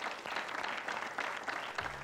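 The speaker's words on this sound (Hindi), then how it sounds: "जोरदार तालियां उनके लिए।" A studio audience on a TV game show claps for the winners, a brief, fairly faint patter of applause with a low hum entering at the end.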